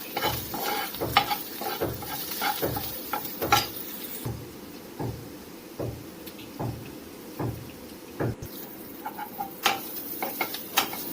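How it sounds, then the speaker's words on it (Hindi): Bitter gourd and potato slices with salt and turmeric fry over a medium flame, a steady sizzle broken by repeated clacking scrapes of a spatula stirring the pan, close and clear with no talking. "मीडियम फ्लेम में इसको थोड़ा टाइम अच्छे से फ्राई कीजिए।"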